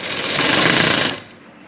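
A sewing machine stitches steadily while a sleeve design is sewn, a loud, continuous mechanical whir that runs for about a second before stopping abruptly.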